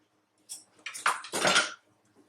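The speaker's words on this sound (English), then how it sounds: "am going to ladle a little bit of the syrup in each one" Syrup for cowboy candy being ladled into jars, heard as a few close clinks and splashy pours of liquid against glass in a short burst lasting about a second and a half, otherwise quiet.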